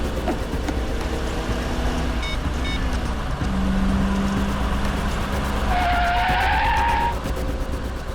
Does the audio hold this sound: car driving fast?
yes